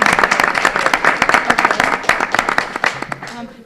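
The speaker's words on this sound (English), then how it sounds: "So a round of applause for you" An audience at a League of Women Voters candidate forum gives a round of applause, a close, lively clatter of many hands with some individual claps standing out and voices mixed in.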